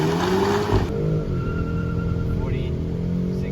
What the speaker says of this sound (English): Now let's see that 0 to 100 time.